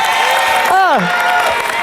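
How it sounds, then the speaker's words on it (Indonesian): Studio audience applause and cheering on the Indonesian game show New Family 100, a steady, loud wash of clapping throughout, with a brief falling electronic whoosh effect in the middle. "tapi tepuk tangan juga dong untuk Pegal Rescue"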